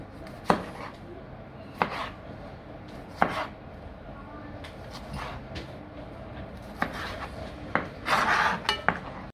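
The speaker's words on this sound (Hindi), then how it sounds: "मैं इसके स्मॉल पीसेस बना रही हूँ क्योंकि वो चेरी टमाटर ज़रा छोटा होता है।" Cherry tomatoes are chopped into small pieces on a cutting board with irregular, close knife knocks. Some strokes are louder, and a brief scraping burst comes near the end. There is no speech.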